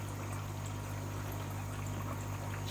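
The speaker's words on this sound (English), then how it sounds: "Water's trickling in." Water trickles steadily into a pond filter box, a continuous soft pouring and bubbling over a low pump hum.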